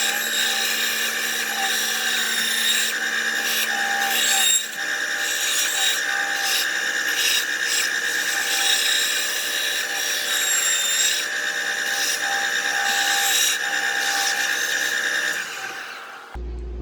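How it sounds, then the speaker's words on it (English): A bandsaw cuts a wooden swimbait blank, a steady loud whining buzz with shifting tones as the blade works through the wood, running continuously for most of the stretch before stopping abruptly at the end. "Work our way over here to the bandsaw and we'll cut this guy out."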